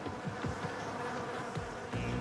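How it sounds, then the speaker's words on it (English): Honey bees borrowed from an apiary buzz steadily on a rooftop, a continuous close insect drone with a few louder swells as individual bees pass near. "With the bees on loan from the apiary"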